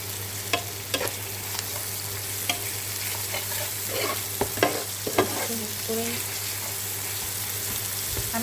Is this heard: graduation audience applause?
no